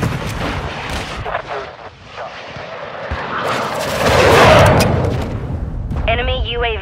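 Heavy airstrike explosions and gunfire boom in Call of Duty Modern Warfare 2 multiplayer. The blasts roll loudly and swell near the middle, and a voice speaks over the combat.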